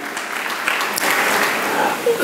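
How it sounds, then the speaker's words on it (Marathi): A church congregation claps together at a Marathi-language worship service, a sustained wash of hand claps at moderate distance that holds steady throughout. "वाजूयात आपण टाळ्या"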